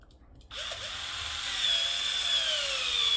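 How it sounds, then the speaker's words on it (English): A power drill starts abruptly and runs continuously as its bit bores through a rubber edge for a John Deere 44 inch snow blade, whining steadily and close up without pause. "It's actually pretty easy drilling through this rubber. The drill bit just slices through it right."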